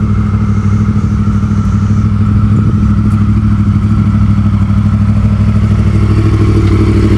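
A Yamaha R1 sport motorcycle runs steadily at close range, its engine droning continuously with a constant loud hum and no clear revving.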